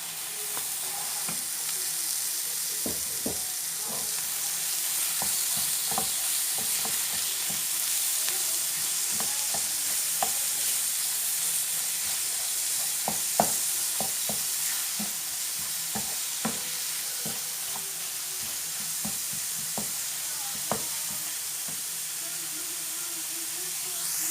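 Minced meat frying in a pan for stuffed peppers, a steady hiss of sizzling with frequent scraping knocks from stirring, close and continuous, with a voice speaking now and then.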